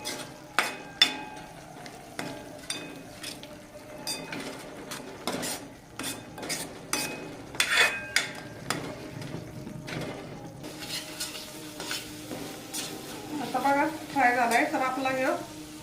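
Spiced cauliflower and pea bhaji with green chillies sizzles softly in a pan while a utensil stirs it, giving repeated sharp metallic scrapes and clinks; a voice briefly surfaces near the end.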